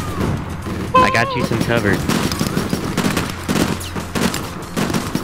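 Gunfire in the online shooter APB: Reloaded, repeated rapid shots and bursts close by, layered with game sounds while a player talks over it.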